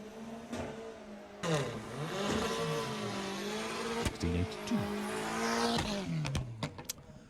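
VW Sportsman drag race cars at Santa Pod's Summer Nationals eliminations, engines loudly revving and rising in pitch as they accelerate down the strip, with sharp pops and rasps alone and no talking.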